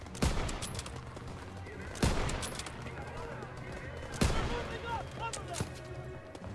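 Gunfire in the World War II shooter Call of Duty WW2, with three sharp loud shots spread across the stretch over a busy, crackling battle din and a voice under it.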